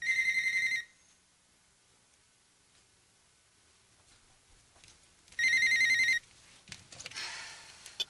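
A telephone rings in two electronic bursts separated by a quiet gap, close and clear, with faint rustling afterward.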